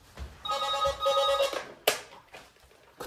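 A telephone rings in an apartment in an upscale residential complex, with a warbling electronic ring in two bursts followed by a sharp click and some faint handling noise, heard fairly close.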